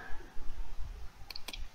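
A computer mouse button is clicked on a Windows desktop, giving two quick, crisp clicks near the end over a low background rumble.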